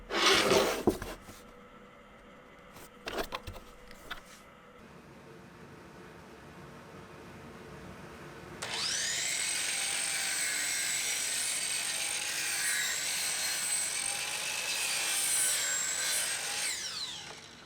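A saw rips about three-eighths of an inch off a cherry wood board. Its high whine starts partway through and holds steady for several seconds, after a few earlier knocks and handling sounds.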